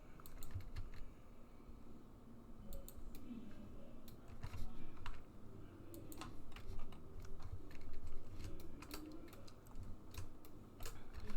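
Typing on a computer keyboard while working in Blender 2.81, with irregular clusters of close, light key clicks and taps over quiet room tone, no talking.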